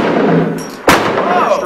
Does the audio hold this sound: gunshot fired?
yes